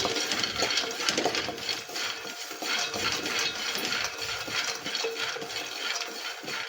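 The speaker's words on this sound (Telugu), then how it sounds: "పల్లీలు కూడా ఇలా బాగా ఫ్రై చేసుకోండి" Peanuts dry-fried in a pan for a flaxseed laddu, making a continuous dry rattle and clatter of nuts tumbling against metal as they are stirred, close and steady with no voices.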